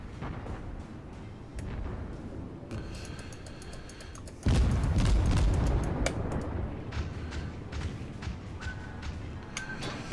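A warship blowing up in the naval battle game World of Warships: rumbling gunfire and battle noise, then a sudden loud, deep, sustained explosion roaring for a few seconds before settling into ongoing combat din, no speech.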